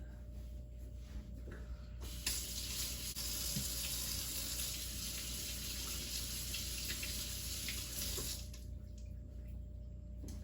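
Potatoes are washed under a running kitchen tap, a steady close splash of water that starts abruptly, holds for about six seconds and then stops, with quiet room tone before and after.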